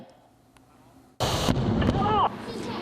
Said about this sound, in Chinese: 炮声真大声，陆军模拟对抗敌军攻占咱的重要目标